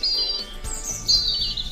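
A bird building a nest lets out several bright, high chirps and tweets in quick, uneven bursts, close and clear against a quiet background.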